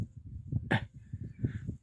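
A dog makes low whimpers and grumbles with one sharper bark-like burst partway through, close and fairly quiet, in a domestic setting with no speech.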